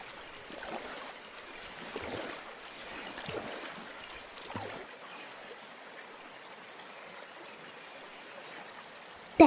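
A small boat moves through water during a trip to pick water lilies, giving soft, continuous sloshing and swishing with a few stronger splashes early on. It is fairly quiet, with no talk.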